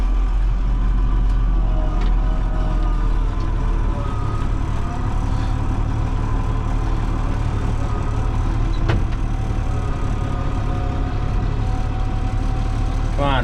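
A tractor engine runs at a steady idle while harrows hooked to its hitch are unfolded, a constant low rumble throughout with occasional faint clanks over it.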